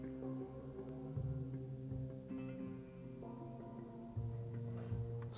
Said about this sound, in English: what I've done is grabbed processed pattern from Sequus